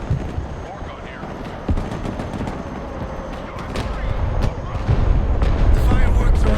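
In the military strategy game Broken Arrow, mortar and artillery fire go off as a rolling series of dull booms and sharp cracks, building louder toward the end over a constant battle rumble, with voices talking.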